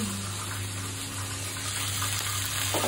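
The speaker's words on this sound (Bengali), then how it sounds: "ফ্রাইড ফ্লেভার আসবে, ফ্রাই করছি" Onions fry in a pan for a pomfret fish curry with a continuous, even crackle and sizzle, close and moderately loud, with no voices.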